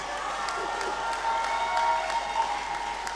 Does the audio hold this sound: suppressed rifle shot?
no